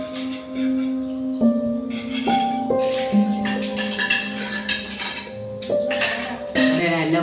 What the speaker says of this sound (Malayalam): ഈ പാത്രം കൂടി ഞാൻ കഴുകി വെക്കണം ബ്രോ